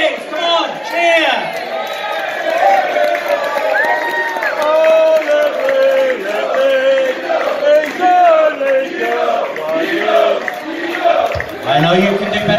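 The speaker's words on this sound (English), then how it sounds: "Come on, cheer!" A crowd cheers for former players Ledley King and Darren Anderton at a legends night in Los Angeles: a dense, steady mass of voices with scattered whoops and shouts, fairly loud and close, running throughout.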